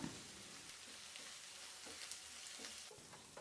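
Onion, ginger-garlic, green chillies and curry leaves sautéing together in a pan for an egg pepper roast, a soft continuous sizzle with occasional spoon stirs, close and fairly quiet.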